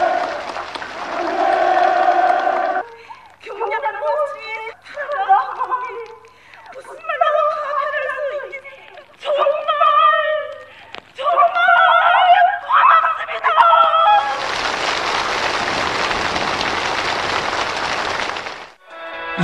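Enthusiastic applause at a countryside housewarming gathering for new homes: a dense, steady wash of clapping from a crowd swells after a stretch of narration and carries on for several seconds.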